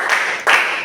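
Short burst of classroom clapping in an Epie language lesson, two quick rounds of hand claps from a group of pupils, close and fairly loud, with no talking.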